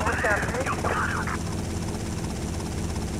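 A helicopter in GTA Vice City whirs with a steady, loud rotor drone throughout, while a voice talks briefly over the first part.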